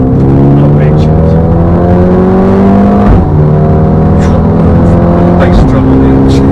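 A Mercedes-AMG A35 engine drones loudly as the car accelerates, with its pitch climbing steadily through the gears and a short break at a shift. The engine note sits behind occasional speech.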